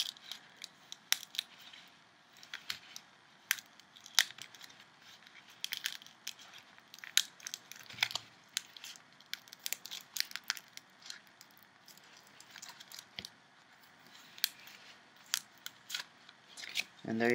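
A tempered glass screen protector is smashed, giving a long run of sharp cracking clicks and crunching snaps at irregular intervals over a faint background hiss.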